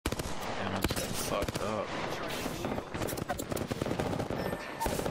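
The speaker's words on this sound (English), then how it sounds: "I am taking fire." Rapid automatic gunfire and scattered shots in a shooter video game, dense and loud throughout, with a voice speaking over the shooting.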